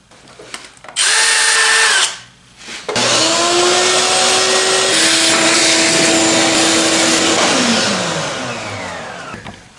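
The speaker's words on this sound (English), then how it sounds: "I'm going to have the vacuum running" A vacuum cleaner runs close and loud over the intake ports of a Chrysler 3.6L engine, starting with a roar, dipping briefly, then holding a steady whining drone that slowly fades near the end, with no talk.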